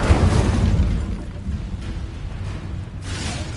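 A fiery Incendio spell cast in the Hogwarts Legacy video game during a fight: a loud whooshing burst at the start, followed by a lower rumbling roar that trails off, with a second swell near the end.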